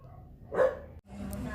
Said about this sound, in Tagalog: So, nag-ingay na naman yung aso.